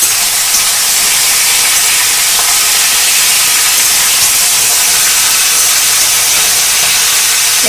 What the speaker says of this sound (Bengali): এবার ভালো করে কপিটাকে কষে নিতে হবে তেলেতে।